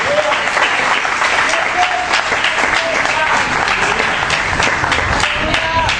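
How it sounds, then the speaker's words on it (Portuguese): A church congregation applauds during a service, continuous dense clapping at an even level, with voices calling out faintly beneath it. "aplauda o Senhor Jesus"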